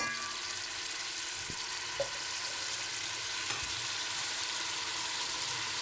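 Ground onions fry in a pot over high heat, giving a steady, fine sizzle with a couple of faint clinks, quiet and close, with no talk.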